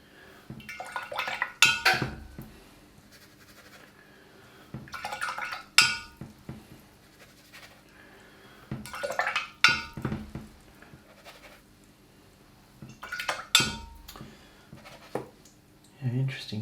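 Paintbrush rinsed in a water jar during watercolour painting, brief clinking and sloshing bursts recurring every few seconds, close and fairly quiet, between stretches of near silence.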